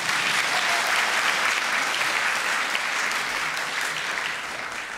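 Audience applause after a dance performance at an open ballet class, a dense sustained clatter of many hands, fairly loud and even, easing slightly toward the end.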